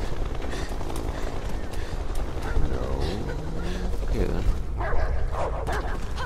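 A dog barks and whimpers in the video game Beyond Two Souls, sharp yips and bow-wows over a dense, rumbling game soundscape with a voice talking.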